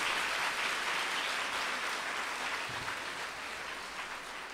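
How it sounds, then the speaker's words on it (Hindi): A church congregation at a worship service claps together in a steady, dense wash of applause that holds evenly and eases slightly toward the end. "तालियां बजाइए।"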